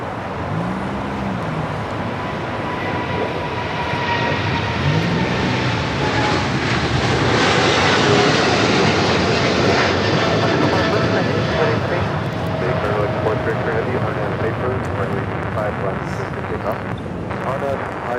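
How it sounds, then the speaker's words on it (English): Korean Air Cargo flight 8208, a cargo jet, passes with a sustained engine roar that swells toward the middle and eases off, with people talking throughout. "That was Korean Air Cargo Flight 8208."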